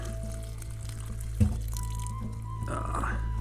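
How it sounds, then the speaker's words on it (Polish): Water poured to the brim into the water tank of a 1982 VW Caravelle T3 Reimo camper to rinse it out: a steady pour and trickle over a low constant hum, with a brief knock midway. "No ale jeszcze wleję tam wody do pełna i go raz wypłukam."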